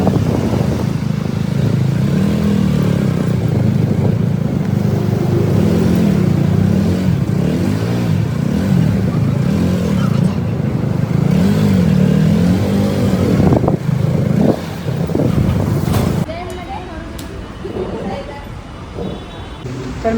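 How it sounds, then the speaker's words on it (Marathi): Heavy road traffic in Bhayandar, with motorcycle and car engines idling and revving up close in a steady loud drone, horns and voices mixed in, before the noise drops off near the end. "भाईंदरला खूप बेकार ट्रॅफिक आहे."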